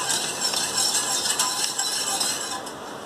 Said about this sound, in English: I am using again the whisk to stir.